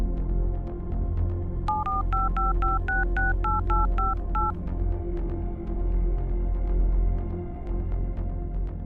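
A telephone number being dialed on a phone, a rapid run of about a dozen short, evenly spaced touch-tone beeps over a low steady hum, with no talking.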